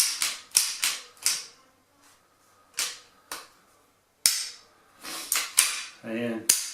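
A Beretta 92 FS slide slides onto its frame with a close series of sharp metallic clacks and snaps, irregularly spaced with short pauses, ending in a brief rasping slide.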